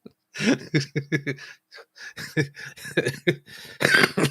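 A series of harsh, close coughs in quick bursts, with a short pause before more hacking coughs and throat clearing follow.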